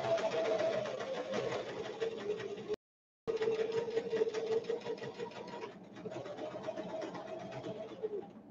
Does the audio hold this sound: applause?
no